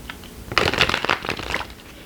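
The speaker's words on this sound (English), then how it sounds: "let me see if I can shuffle them poker style" A deck of Cosmic Laws oracle cards is riffle-shuffled poker style, giving one close, brisk burst of rapid flicking and fluttering that lasts about a second and then tapers off.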